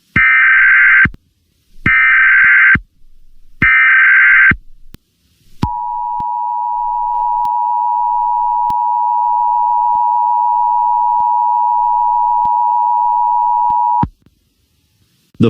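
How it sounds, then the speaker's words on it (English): An EAS emergency alert plays three loud bursts of its harsh two-tone attention signal, then a long steady single-pitch tone that runs unbroken for about eight seconds before cutting off. "It's an EAS message"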